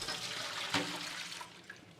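Film developer liquid poured over a metal spoon, a short splashing pour with a brief bright clink partway through, close and fairly quiet.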